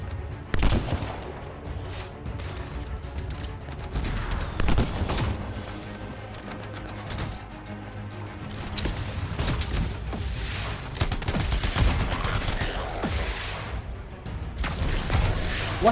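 Battle rifle firing single shots in the online action game Anthem, a dense burst of gunfire and booming blasts layered with busy game effects, loud and continuous across the whole stretch with no voice on top.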